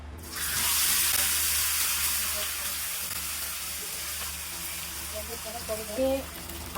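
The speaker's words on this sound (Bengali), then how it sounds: "ফ্রাই প্যানে আমি তেল দিয়ে দিলাম পরিমাণ মতন ভাজার জন্য।" Chicken chaap drops into hot oil in a frying pan and bursts into a loud, steady hiss that eases slightly but keeps sizzling close up, with a few small pops near the end.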